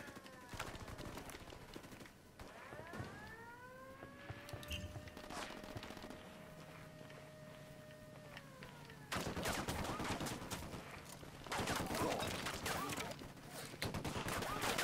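Gunfire in the tactical shooter Ghost Recon Wildlands, with scattered shots under someone talking, then heavier sustained bursts of rapid fire in the second half.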